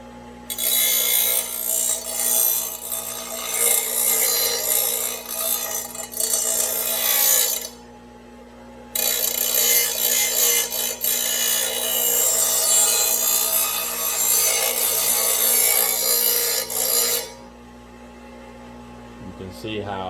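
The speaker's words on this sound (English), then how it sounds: "now we're going to go ahead and put it in an angle like this to sharpen it" A Ryobi lawn mower blade is sharpened at an angle with a grinding tool in two long, steady, hissing grinding passes separated by a brief pause, loud and close over a low electrical hum.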